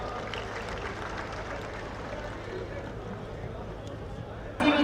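Applause from a crowd at a political speech in Bathinda, Punjab, a steady wash of clapping held at a moderate distance throughout, swelling suddenly louder in the final moment.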